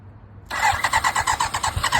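A trike's engine cranks after a quiet moment, then sputters into a rapid, rhythmic, close-up chugging as the starter turns it over, the pulses loud and evenly spaced for about a second and a half.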